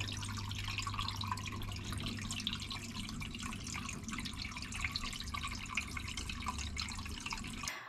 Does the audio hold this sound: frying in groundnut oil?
no